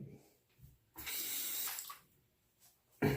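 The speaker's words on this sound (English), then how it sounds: "Just had to rinse the razor there." A razor rinsed under a running tap, with a close burst of flowing water lasting about a second, a quiet pause, then a second splash starting, alone and without talk.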